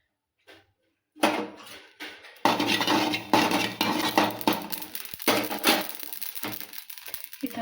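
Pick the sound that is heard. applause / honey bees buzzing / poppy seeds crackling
poppy seeds crackling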